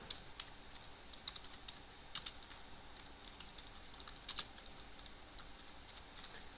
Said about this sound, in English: So I just typed down create partition primary.